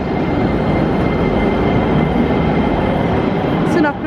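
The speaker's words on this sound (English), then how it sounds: "So we're going to get on our first tram in Sofia, the number 12." A number 12 tram in Sofia, Bulgaria, rumbles loudly and close by at a station, producing a dense, steady rolling roar that eases off at the very end.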